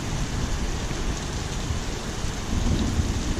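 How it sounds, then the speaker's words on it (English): Heavy rain falling steadily outdoors during hailstorm season, a dense continuous wash of drops with a faint low rumble, swelling slightly louder toward the end. "Sounds like the rain might be letting up."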